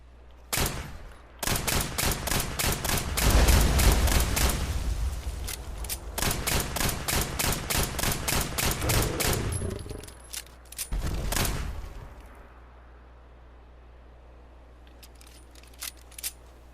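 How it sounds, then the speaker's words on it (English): Rapid bursts of pistol fire in the video game Fallout 4, dense strings of sharp shots in two main volleys with a short pause between, then a few isolated pops trailing off into quiet. "So we'll do it with the classic pistol and see how much damage we can do to Swan."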